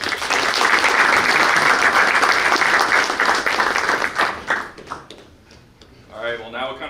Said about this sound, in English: So we'll clap it up for